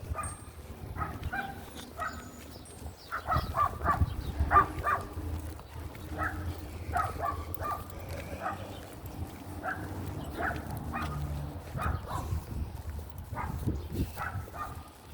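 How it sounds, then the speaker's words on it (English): A dog barks repeatedly at a moderate distance, in irregular bursts mixed with yips and whimpers over a low background rumble. "There's Chance in there barking."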